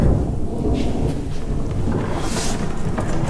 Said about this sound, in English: Another peal of thunder is heard and Wyatt fully turns around